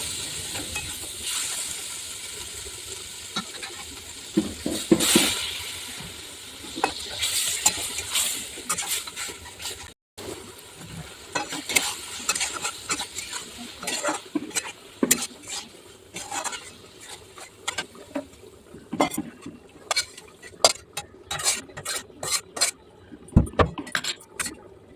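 Malabar spinach and potato are stir-fried with spices in a pan, a soft sizzle under frequent clattering spatula scrapes and metallic knocks that come in irregular bursts.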